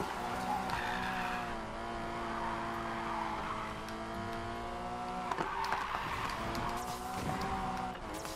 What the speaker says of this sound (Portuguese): Pega o drift, João.